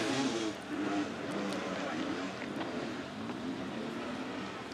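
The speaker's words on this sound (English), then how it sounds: "It's such a good sound listening to a 300 two-stroke getting revved to the max" 300 two-stroke dirt bike engine revving at an off-road event, a distant, rough, buzzing roar that holds steady with slight surges, fairly faint under background noise.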